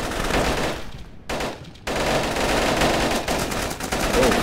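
Sustained automatic gunfire from an isometric tactical shooter video game, loud dense bursts filling nearly the whole stretch, broken by two brief gaps early on.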